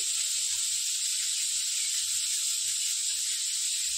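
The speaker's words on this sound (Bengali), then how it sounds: "প্রথমে সুজিটা ভেজে নিই।" Semolina fries in a pan, a continuous even hiss and sizzle held close and steady throughout, with faint low knocks underneath and no voices.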